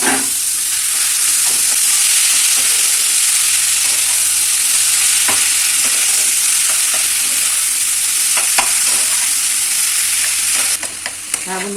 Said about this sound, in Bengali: আমি তরকারিটা আবার কষাচ্ছি